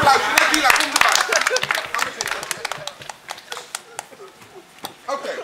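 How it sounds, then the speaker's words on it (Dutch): An audience claps for a young girl joining a kids' bucket drumming workshop at an outdoor festival in Rotterdam, with dense clapping that thins into scattered claps and voices talking over it. "Nadila, even een applaus."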